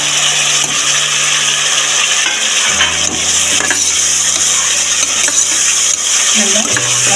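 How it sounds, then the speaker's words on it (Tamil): Onions and tomatoes sautéing in a pan for green peas rice, a close, steady hiss of frying with occasional knocks and scrapes of stirring, and no voices. "இப்போ நம்ம கட் பண்ணி வச்சுட்டு தக்காளி சேர்த்து"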